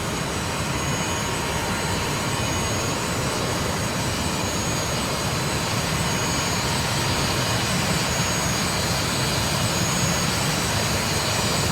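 Boeing 727 jet engines roar at climb power in Microsoft Flight Simulator 2024, a steady, loud, broadband rumble and whine that holds constant throughout with no talk.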